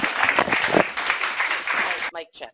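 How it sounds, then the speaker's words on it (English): An audience applauds a speaker being introduced at a university talk, dense clapping that fills the room for about two seconds before breaking off. "Round of applause for Dr."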